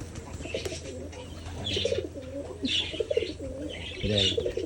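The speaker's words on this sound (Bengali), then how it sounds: "ও একটা কবুতরই আমার ঘরে" A pigeon inside a village house gives soft, low, repeated coos nearby in three rolling phrases, with a faint chirp in the background.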